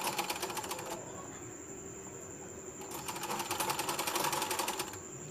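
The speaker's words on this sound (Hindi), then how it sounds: "बस सीधे हम इसके ऊपर रखेंगे और सिलाई करते जाएंगे" A sewing machine stitches blouse fabric with a steady, fast mechanical ticking that is close and continuous, pausing briefly before running on.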